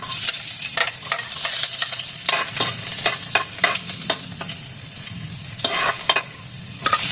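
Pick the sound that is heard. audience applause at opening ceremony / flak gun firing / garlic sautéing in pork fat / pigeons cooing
garlic sautéing in pork fat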